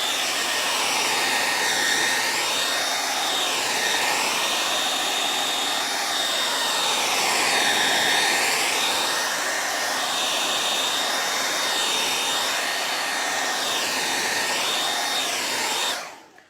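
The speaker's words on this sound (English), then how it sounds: "I'm just gonna quickly run my hair dryer over this" A hair dryer blows over a whitewash glaze on an old barnwood frame, a loud steady whooshing hum that swells and dips slightly as it moves, running continuously with no talk until it cuts off.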